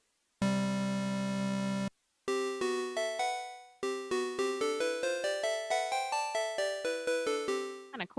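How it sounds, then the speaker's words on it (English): Mini Bear synthesizer with its second oscillator tuned a fifth above the first: a held bright tone, then a rising run of plucked notes with quick decays, open hollow intervals stacked in each note. "So I can basically tune the oscillator two a fifth up from oscillator one."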